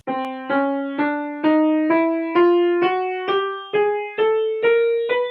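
A rising sequence of closely spaced notes moving up in small half steps, each attacked separately at an even pace, close and clear.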